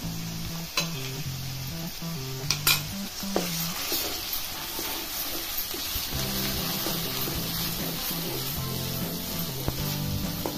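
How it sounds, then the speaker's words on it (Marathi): A paste of tomato, onion, ginger-garlic, magaj seeds and cashew sautéed in a pan for veg kolhapuri, sizzling steadily with occasional spoon taps and scrapes, close and continuous, with no speech. "टोमॅटो, कांदा, आलं लसूण मगजबी आणि काजूगर पेस्ट घालून परतायचं आहे चांगलं"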